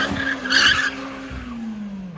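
At a car meet, a three-wheeler with bald tires skids, giving a loud sustained tire squeal with a sliding pitch over a rough engine roar. The squeal fades slightly as it goes on.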